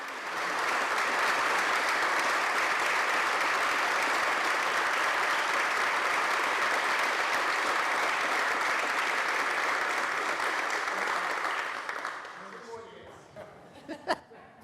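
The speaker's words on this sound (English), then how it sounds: "please rise and give this good man a round of applause as he departs us" A legislative chamber audience at the New York State Senate gives a departing senator sustained, dense applause lasting around twelve seconds, with some chuckling mixed in, before it fades into scattered claps and a few sharp knocks.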